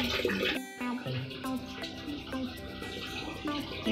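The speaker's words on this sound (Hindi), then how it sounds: "ये फिल्टर में से जो पानी गिर रहा है इसकी साउंड आती रहती" Water from an aquarium filter falls steadily into a home fish tank, a continuous splashing trickle heard close by, with faint voices and a few short tonal chirps over it.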